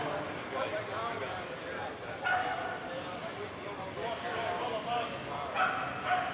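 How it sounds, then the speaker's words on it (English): A dog barks a few times at a distance outdoors at an antique tractor pull, the yips faint and partly buried under steady crowd murmur and announcer talk. "I hear the dog barking."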